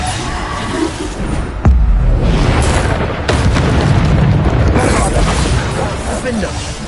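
Booming spell explosions from the Bombarda curse in Hogwarts Legacy, one sharp blast near 1.7 seconds and another near 3.3 seconds over dense, continuous rumbling and background speech.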